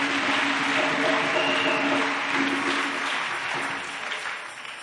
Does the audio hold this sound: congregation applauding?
yes